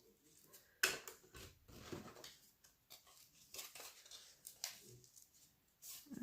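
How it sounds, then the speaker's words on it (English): Scissors snipping through a paper lunch sack for a junk journal, a few quiet irregular cuts and crinkles close by, with soft handling noises between them. "Go ahead and cut that."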